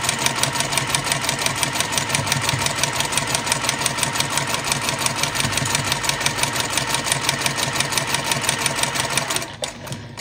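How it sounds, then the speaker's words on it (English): Domestic sewing machine stitching quilt block pieces along an edge for a rail fence block, a steady rapid mechanical whir with even needle rhythm running close and loud before stopping near the end. "I'm just going to sew along that edge just like we have all the other pieces"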